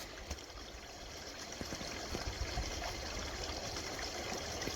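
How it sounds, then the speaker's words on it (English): A small waterfall trickles somewhere beyond the end of a woodland boardwalk, giving a steady, moderately close wash of running water that swells slightly after the first couple of seconds, with no voices. "It's like a little waterfall over there."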